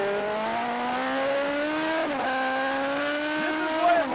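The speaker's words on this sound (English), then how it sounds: "the sights and sounds of riding a superbike" A superbike at a 1979 AMA race, recorded onboard the camera bike, screams loudly and continuously, its high engine whine climbing through the gears with brief dips at each shift.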